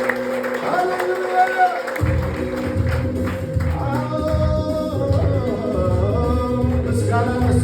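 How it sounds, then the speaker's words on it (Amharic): A church congregation applauds and ululates together for a sustained stretch, dense rhythmic clapping mixed with crowd noise and high trilling cries. "እልልታ ጭብጨባ ለንጉሡ ይሁን።"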